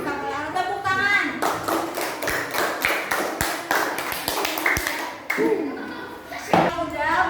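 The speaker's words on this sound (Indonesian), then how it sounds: "Tepuk tangan." A class in an Islamic religious education lesson claps in a quick rhythmic burst of sharp, close hand claps that stops after a few seconds, while children's voices call out over and around it.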